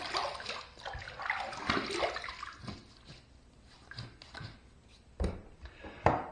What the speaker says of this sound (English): let's wet the face